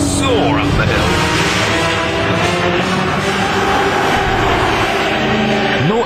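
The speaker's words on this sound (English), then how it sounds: "Got a half throttle, you feel the urgency, singing, full throttle, you soar up the hill." A 2007 BMW M3 engine pulls at full throttle up a hill, a loud, sustained, rising engine note that stays strong throughout.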